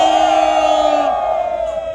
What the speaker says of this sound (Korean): 격려의 함성 와를 한 2초간 힘차게 외쳐주시기 바랍니다